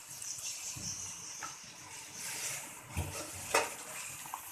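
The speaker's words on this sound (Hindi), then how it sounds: "अब हम इसमें थोड़ा सा पानी शामिल कर देंगे" Water splashes and trickles with a few soft clunks, moderately quiet and close, as about two bowls of water are poured into a pan of pav bhaji.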